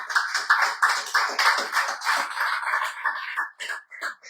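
Clapping at a church service comes in loud, uneven bursts close by, thinning and breaking into scattered claps toward the end.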